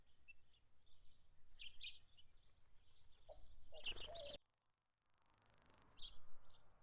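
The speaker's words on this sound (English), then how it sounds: "Female house finches fight over access." Small chirps and tweets from house finches at an outdoor water spigot, several short calls scattered over a quiet background, with a brief loud burst of noise partway through and a few more chirps afterward.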